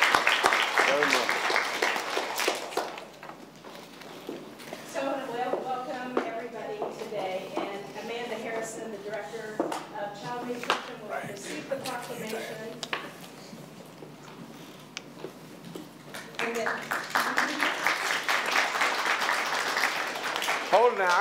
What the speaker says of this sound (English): Let's give the governor and all of you a nice round of applause.